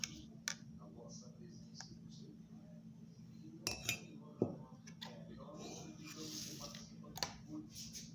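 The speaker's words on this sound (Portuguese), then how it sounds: "você vai botar 2 colheres de manteiga dentro da xícara" A spoon scoops butter into a cup while making microwave brownies, giving faint scattered clinks and scrapes against the cup under a steady low hum.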